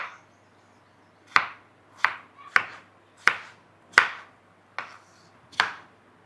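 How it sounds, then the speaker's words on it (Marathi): Peeled potatoes being cut with a knife on a board for potato balls, seven sharp separate chops spaced about a second apart, close and clear against a quiet background. "हे बटाटा आता मी अशा पद्धतीनं चिरून घेते."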